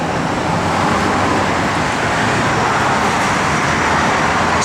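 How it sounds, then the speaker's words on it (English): A truck rolls past on a nearby road, a steady broadband roadway rumble that stays loud and even throughout with no voices over it. "let that truck pass"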